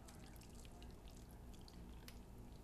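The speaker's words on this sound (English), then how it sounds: "we're going to pour liquid up to about halfway up the short ribs" Liquid poured into a pan of short ribs, filling about halfway up the meat: a steady, faint pouring and trickling wash, constant throughout.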